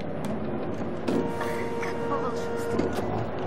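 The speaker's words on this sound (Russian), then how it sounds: "Это что, факс или что? Принтер какой-то." A printer or fax machine in the game Until Dawn runs with a steady mechanical whirr and a few faint clicks, set against game ambience while someone talks over it.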